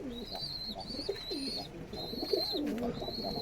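Rajshahi Giribaz and Pakistani breed pigeons coo nearby, repeated throaty rolling calls over a steady background hum, with no talk.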